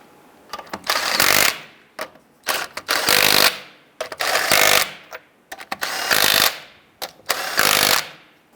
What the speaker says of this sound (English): Go ahead and get your lug nut started. And once we have those started, we'll go ahead and snug those down.